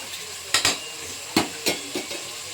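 Chicken sambar ingredients fry in a wide pan with a steady sizzle, punctuated by several sharp scraping clacks of a spatula against the metal, no voices.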